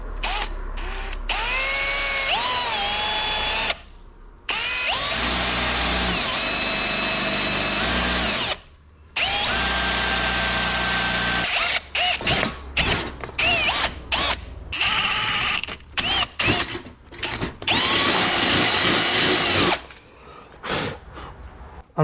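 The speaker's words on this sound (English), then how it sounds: "let's go through the drill bit set here" A power drill fitted with a drill bit runs in repeated bursts of varying length while building car bumper brackets, its motor whining and ratcheting loudly, with short pauses between each run.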